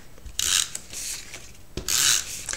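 An adhesive tape runner is drawn across card stock in two short, crisp swipes, each a close scratchy rasp with brief clicks and soft handling noise between them and no talking.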